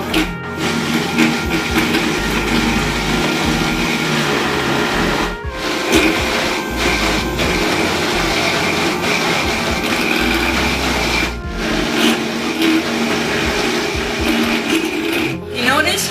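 A Vitamix blender churns cream into butter with a loud, steady motor whir that pauses briefly three times, while people talk throughout.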